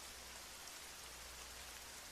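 Heavy rain pouring steadily, a dense continuous hiss that fills the whole clip with no pauses and no voices over it.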